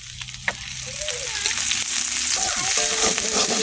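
Jute leaves frying in oil in a pan, a steady close sizzle and crackle that swells slightly as stirring clatters in, with no talking.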